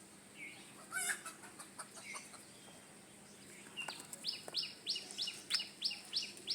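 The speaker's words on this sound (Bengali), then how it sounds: "মোরগ লড়াই চলছে।" Backyard roosters fighting give faint, scattered clucks and short calls early on, then a rapid run of sharp, rhythmic chirping cries, all fairly distant and without speech.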